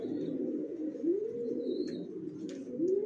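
Racer pigeons in a home loft coo continuously in low, rolling, overlapping calls, close and steady throughout, with a few faint higher chirps from other birds.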